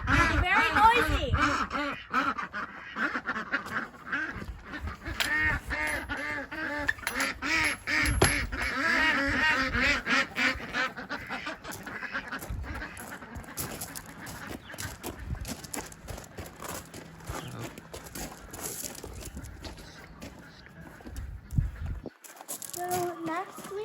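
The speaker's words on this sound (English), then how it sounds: "Then over here we have our ducks." A flock of farm ducks quacks loudly and almost continuously close by, with a voice talking now and then among the calls before the noise drops away at the end.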